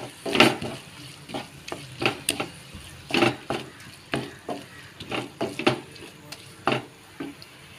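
Crab sukka is stirred and mixed in a pan, a spoon scraping and knocking against the metal in irregular strokes over a light sizzle, close and fairly loud with no talk.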